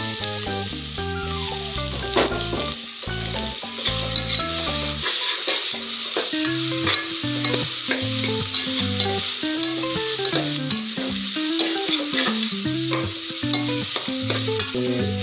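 Chillies sauté in a pan during a quick bachelor-style breakfast, a steady frying hiss with spoon-stirring scrapes, largely masked by loud melodic background music playing throughout.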